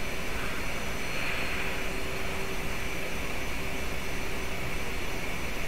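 Steady airplane engine drone from a flight simulator on a landing approach, a constant loud roar with a whining tone held throughout, heard alone.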